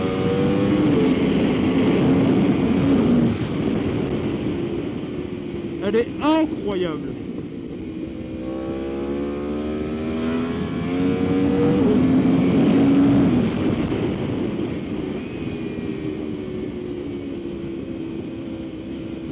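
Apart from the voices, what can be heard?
Yamaha R1 motorcycle engine downshifting and revving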